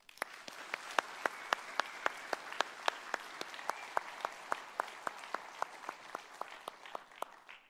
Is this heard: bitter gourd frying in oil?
no